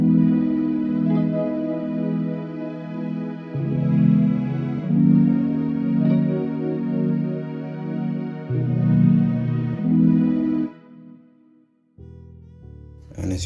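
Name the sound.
stereo strings synth preset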